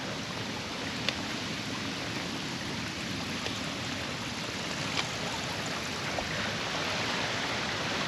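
A tiny forest stream flowing steadily, a soft continuous wash of water close by with faint higher trickles, and no talking over it.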